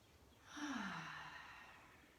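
One slow, deep breath during a gentle yoga stretch rises and then trails off into a soft, airy exhale, faint and close, with no talking.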